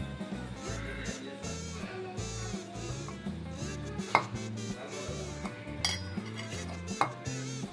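Fresh grated coconut fries in a pan for coconut laddu, with repeated metal spatula scrapes and clinks against the pan, close up, over steady background music.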